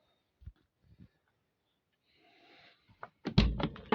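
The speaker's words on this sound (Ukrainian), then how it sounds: "Двері відкриваються хорошо." The cab door of an MTZ 1025 tractor undergoing cab repair opens with a soft creak and a short rattle, then several sharp metallic clunks near the end, heard close in a quiet space.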